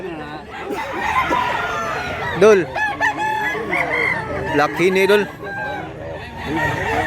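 Gamecocks at a rooster market in Mantalungon, Cebu, crow loudly and repeatedly, several close calls overlapping with clucking while people talk nearby.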